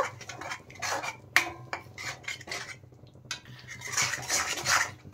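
A utensil stirring a sauce mixed with dissolved paste in a pan for cauliflower Manchurian, giving intermittent metallic scrapes and clinks against the pan, close and fairly quiet, with no talking.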